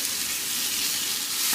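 Suya beef sizzles steadily in hot oil while frying, a dense, close, continuous crackle with no voices.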